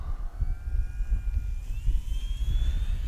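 An Arrows Bigfoot RC plane flies slowly overhead, its electric motor giving a thin rising whine over a low rumble of wind and ground noise, moderately distant and steady throughout.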